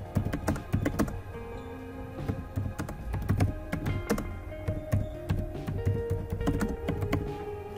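Rapid computer keyboard typing with irregular clicks and occasional heavier key thunks, close up, continuing steadily with no voices.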